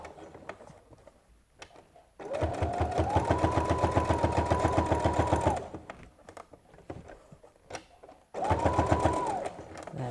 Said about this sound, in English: because I'm doing a bit of a top stitch here